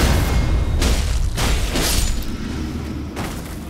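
A loud, booming fire attack from an enemy in Elden Ring: a string of heavy blasts and thuds in fairly quick succession, dense and close, with no talk over them.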